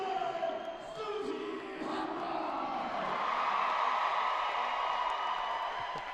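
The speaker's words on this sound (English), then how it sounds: "What an incredible roar for Scald Eagle" A roller derby arena crowd at the 2014 World Cup, USA versus England, roars loudly and steadily for a skater, the cheering swelling and holding in a broad wash of voices while a commentator talks over it.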